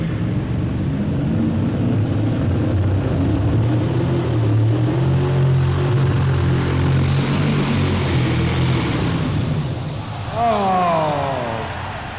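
A tractor-pull tractor at the 1998 National Farm Machinery Show roars loud and continuous, its engine swelling and straining for several seconds before the sound thins and drops away near the end.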